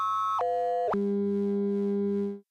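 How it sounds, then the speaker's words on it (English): Ring-modulated sine waves from a modular synthesizer: a clean electronic tone steps down in pitch twice, settling into a steady, slightly beating buzz before cutting off. "I've been demonstrating it here with just sine waves, which consist of a single harmonic"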